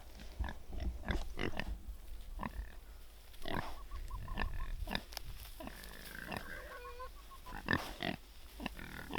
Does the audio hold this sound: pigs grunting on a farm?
yes